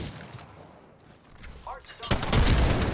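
Frag grenade exploding in Apex Legends, a sudden loud broadband boom near the end that rolls on with debris-like rumble after quieter game noise.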